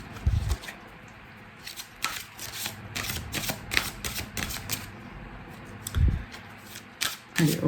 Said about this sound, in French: on va prendre une carte de l'oracle « Dis-moi que tu m'aimes »